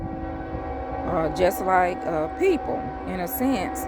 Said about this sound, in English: Sorry, that's the train.